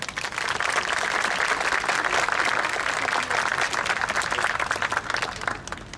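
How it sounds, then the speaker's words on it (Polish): A concert audience at a music festival applauds after a song, a broad, sustained wash of many hands clapping that holds steady for several seconds before beginning to fade. "Zuzanna Wolny, wielkie oklaski."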